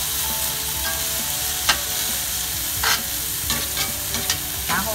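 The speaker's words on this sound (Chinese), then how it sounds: "再翻动胡萝卜还有洋葱，然后把牛排给它翻一个个儿" Beef steak frying in a pan alongside carrots and onions, giving a steady, close sizzle with occasional sharper crackles and scraping stirs, no voices.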